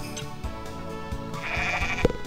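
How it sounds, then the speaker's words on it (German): A sheep in the farming video game Harvest Moon: Back to Nature bleats, and the short, nasal calls repeat over steady game background music, with no one speaking. "1, 2, 3 nackige Schafe"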